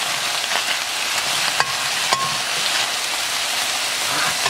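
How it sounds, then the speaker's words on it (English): Green pepper stir-fried in a hot pan sizzles with a continuous crackling hiss, punctuated by a couple of sharp clinks of the utensil against the pan. "Now we put the green pepper and start fry them together"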